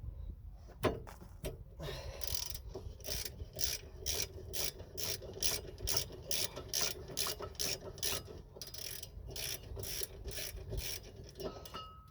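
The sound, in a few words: ratchet tightening brake caliper bolts on Ford Fiesta Mk6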